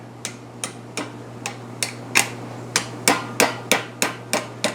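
A hammer strikes welded steel trivet pieces clamped in a vise, a dozen sharp metallic blows in a steady rhythm that grow slightly louder and quicker, close up, with a faint constant hum beneath and no speech.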